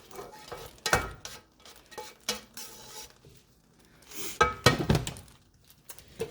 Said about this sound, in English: I'm going to take this and I'm going to dump it into my pasta